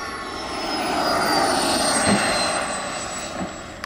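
Giant radio-controlled jet's turbine throttling up, a loud, close, roaring whoosh with a high whining tone that swells and then eases back.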